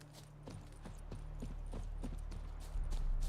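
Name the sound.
horse hooves from The Witcher 3 video game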